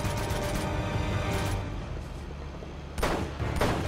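Enemy gunfire in Uncharted 2 bursts out in rapid volleys of close, loud shots, dips briefly, then resumes with sharp cracks, with no talk over it.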